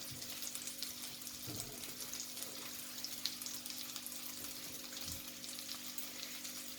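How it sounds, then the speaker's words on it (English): Smoked mackerel crackles and sizzles softly in a pan, a quiet steady frying hiss with a few faint bumps and stirring sounds nearby. "Smoked mackerel, pan fry."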